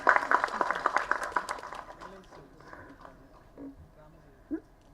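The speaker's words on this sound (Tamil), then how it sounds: "நல்லா கைதட்டுக்கணும் ஒரு தடவை." A press meet audience claps at the start, a brief burst of scattered applause that quickly fades into quiet room noise with a few faint sounds.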